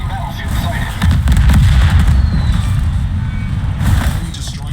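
Warship naval guns firing in a video game battle, a heavy booming roar that swells and sustains with rumbling low end, followed by another burst near the end, with a voice talking over it.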